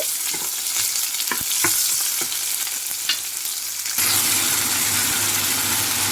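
Mustard seeds frying in a pan for prawn thokku, a steady loud sizzle with scattered crackles and pops that grows fuller and brighter partway through, with no talking.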